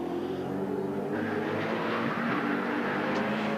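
A V8 touring car races past at the 1994 Bathurst 1000 on Mount Panorama, its loud engine roaring steadily and rising in pitch as it goes through, with no talk over it.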